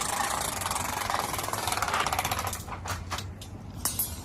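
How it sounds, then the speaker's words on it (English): A manual Dometic RV awning is pulled fully down, giving a continuous close rattling, clattering mechanical drone that eases into a few looser knocks and clicks near the end. No voices are heard. "So we're going to pull this fully down."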